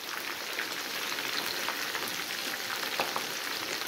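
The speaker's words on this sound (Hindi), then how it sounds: "लो मीडियम पे हमने इसको फ्राई करना है।" Chicken roast frying in a pan on low-medium heat, a steady soft crackle and sizzle that stays even and fairly faint, with no talk over it.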